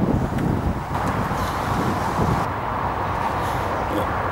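Steady wind buffets a microphone with a low, rough rumble that persists throughout, loud and close, with no voices.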